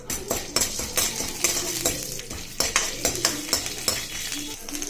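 Chana dal frying in oil in a kadai for tomato-coconut chutney, with close, loud, rhythmic scraping and clinking of a spoon against the pan over a steady sizzle and no talking.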